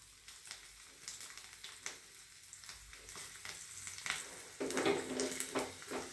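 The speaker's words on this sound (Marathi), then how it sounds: "त्याच्यात पहिला कढीपत्ता घालायचा आणि लसूण म्हणजे लसूण चांगला परतला जातो" Curry leaves and garlic fry in hot oil for kadhi, a steady close sizzle that swells louder near the end.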